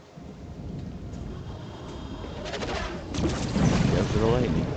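Rumbling thunder in the LEGO Fortnite video game, a low rolling storm with rain-like hiss that builds and grows louder toward the end, a voice talking faintly underneath.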